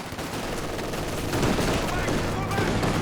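Dense strafing-run gunfire in Company of Heroes 2 during a 4v4 battle, a steady continuous clatter of shots and impacts filling the mix at a constant level with battle noise layered around it.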